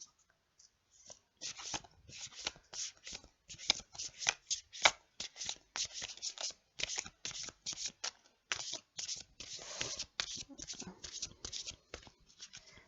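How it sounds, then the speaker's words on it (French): Oracle divination cards being shuffled by hand, a long run of quick, crisp riffling bursts in an irregular rhythm, close and fairly quiet, with someone speaking softly at times. "On va faire donc les cartes divinatoires des maîtres ascensionnés, toujours de Dorine Vertu"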